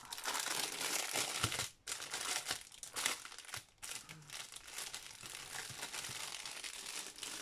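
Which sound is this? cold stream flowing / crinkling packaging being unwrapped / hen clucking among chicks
crinkling packaging being unwrapped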